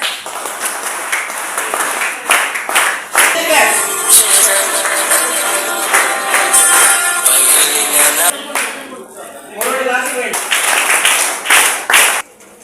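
An audience claps in a burst of applause at a high school headmaster's retirement ceremony, swelling and holding for several seconds before fading, with voices at the start and end.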